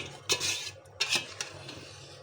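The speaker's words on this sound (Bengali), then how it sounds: "ডালটা দিয়ে একটু নাড়াচাড়া করছি" A spoon scrapes and knocks against a cooking pot as chana dal and rice are stirred together for khichuri, giving a few sharp clinks and scrapes close up, with no talking.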